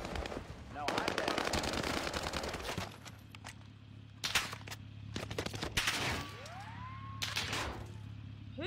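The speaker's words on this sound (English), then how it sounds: "Who's shooting at me?" Gunfire in the video game Warzone, dense machine-gun bursts and scattered single shots of varied loudness with a siren-like tone rising in the background, a steady low hum underneath.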